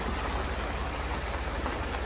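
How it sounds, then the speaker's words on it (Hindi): Steady, even rain hiss, fairly soft and constant, with no voices over it. "जरा बारिश हो रही है"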